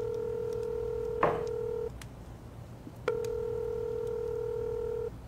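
A telephone number is dialed as a rapid burst of DTMF keypad tones, followed by two long steady ringback tones separated by a pause, with no answer and no voices.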